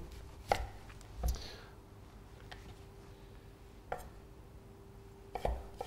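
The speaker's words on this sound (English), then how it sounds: "we're going to slice our celery into slices, and it's got quite a firm texture, so you might need to apply a little touch of pressure when you're putting the knife through" A kitchen knife cuts through firm celery on a board, giving a handful of crisp, separate chops spaced unevenly over a quiet background.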